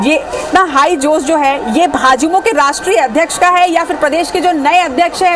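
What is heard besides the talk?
No everyday noises stand out.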